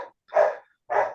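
Dogs bark in short, sharp bursts, two loud barks close by, spaced apart and separated by silence.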